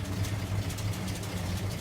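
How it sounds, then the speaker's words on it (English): The engine of a 1947 GMC truck idles rough and uneven, a low steady rumble with a slightly irregular pulse, heard close. "Idle, engine running. Seems to be idling a little rough."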